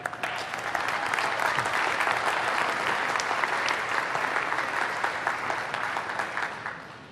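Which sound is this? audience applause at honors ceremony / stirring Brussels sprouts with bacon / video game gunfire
audience applause at honors ceremony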